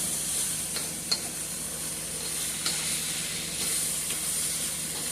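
Ground meat seasoned with Italian seasoning, oregano and Italian parsley sizzles in a stir fryer. It gives a steady, close hiss that runs throughout, with a few sharp clicks from stirring and no voices.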